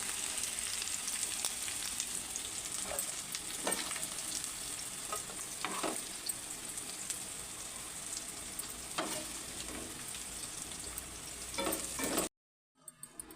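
Bitter gourd pieces sizzle steadily in hot oil, a dense, continuous crackle with occasional louder pops and stirring, close and loud throughout, ending abruptly.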